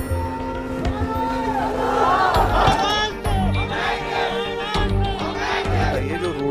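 Crowd gathered on a road, people holding sticks and stones: many loud overlapping voices shouting and clamoring close by, a continuous agitated din with some raised cries.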